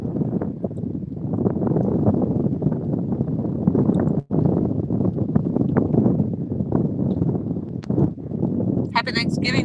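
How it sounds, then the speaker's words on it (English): Strong wind buffets a microphone outdoors on the water near a boat, a constant loud rumbling roar with gusty fluctuations and a brief dropout, with a voice speaking at times. "I know it's windy right now."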